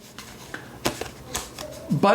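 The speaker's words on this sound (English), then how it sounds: "And though I'm a little careful with it, I do riffle shuffle it." Playing cards with sharp corners being handled and riffle shuffled close up, a few soft flicks and taps ending in a brief riffling burst, with a voice speaking.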